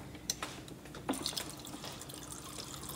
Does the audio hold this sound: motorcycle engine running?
no